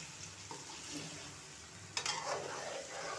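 Spice masala with vegetables and chicken for junglee pulao fries with a continuous sizzle, punctuated by a sharp scrape and clatter of stirring near the end, moderately loud and without speech.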